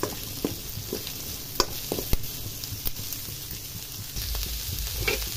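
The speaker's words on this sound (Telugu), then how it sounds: "ఇప్పుడు ఉల్లిపాయ టమాటా నూనెలో బాగా మగ్గబెట్టుకోవాలి" Onion and tomato frying and sizzling in oil in a pan for a paneer masala curry, a steady close hiss with scattered spatters and sharp clicks of stirring throughout.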